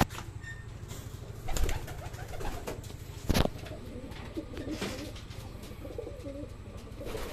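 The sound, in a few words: racing pigeons cooing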